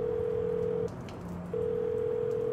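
A telephone call rings out, with two steady, moderately loud calling tones separated by a brief pause over a soft background hiss.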